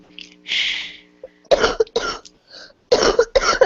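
Several harsh coughs come close to the microphone in a short burst, a breathy cough followed by a run of sharp, rough hacks with brief gaps between them.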